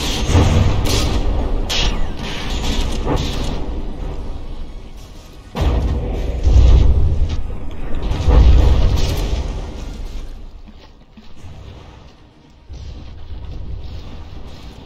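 Shells striking battleship armor in the From the Depths video game, a rapid series of heavy booms and thuds, loud and close, rolling on and off across the stretch before tapering to a lower rumble.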